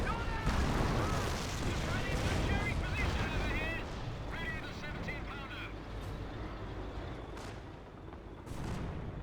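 Artillery barrage in the Company of Heroes strategy game: dense, rumbling blasts and gunfire crackle. Game voice callouts and a caster's commentary run over the explosions, which thin out and then pick up again near the end.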